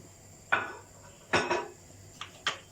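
Dough pieces for Siirt-style gulolok being stirred slowly in a cooking pot of liquid: four separate scraping clinks of a utensil against the pot, spaced about a second apart, fairly close and otherwise quiet.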